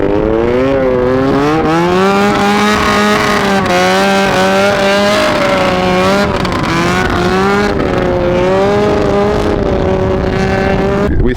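A 400cc engine in a 70 lb go kart runs loudly and steadily at high revs, its pitch wavering slightly as the throttle varies. It drones continuously up close with no voices.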